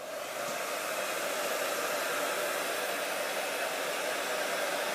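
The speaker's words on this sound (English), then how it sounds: "So I'll take a heat gun, you can use a hair dryer" A steady, loud rush of hot air blowing from a heat gun, continuous and unbroken from start to finish with no talking.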